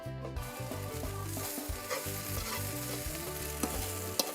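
Yam frying in a pan is stirred, and a steady close sizzle carries on throughout with soft scraping and stirring sounds layered on top. No one talks.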